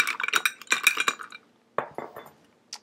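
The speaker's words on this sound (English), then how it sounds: "Now, stir it up" A spoon clinks and rattles against a glass while a mojito is stirred, two quick bursts of metallic tinkling close up with a short pause between them and a faint final tap.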